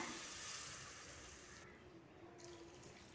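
Water is poured into a pot of millet and lentils for porridge, a soft, steady splashing pour that runs for a few seconds at low volume.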